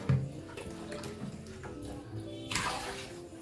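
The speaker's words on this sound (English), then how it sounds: "In a circular motion and rotating the basin, we can evenly distribute the water." Water swished around inside a hospital bedpan basin being rotated in circles during a sanitation demonstration, with soft sloshing and a brief louder splash near the end.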